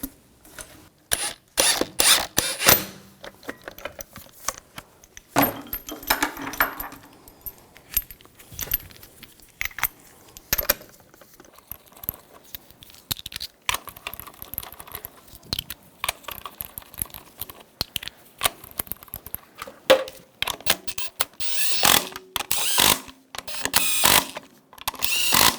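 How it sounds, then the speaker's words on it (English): Lug bolts threaded into a wheel hub on a 2000-2006 BMW X5 during a front ball joint repair, giving irregular metallic clinks, jangles and ratcheting taps close by, in bursts with short pauses. "Put the lug bolts in."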